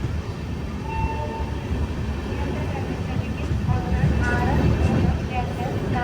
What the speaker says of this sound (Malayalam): ട്രെയിൻ ഇപ്പോൾ കുമ്പള സ്റ്റേഷനിലെത്തി.